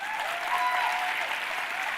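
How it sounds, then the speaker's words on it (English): Audience applause at a women's leadership summit speech, a steady wash of clapping from a crowd lasting the whole moment, fairly distant and even. "Give yourselves a round of applause."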